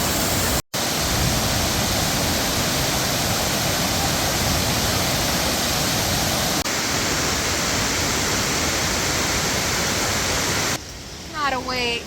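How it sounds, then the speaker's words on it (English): Taughannock Falls, a broad, powerful waterfall in the Finger Lakes, roars as a steady, loud wall of rushing water that fills the whole clip, briefly cut at the start and thinning near the end as a voice comes in. "175 feet wide, Yehezekal Falls is the region's most powerful and most impressive."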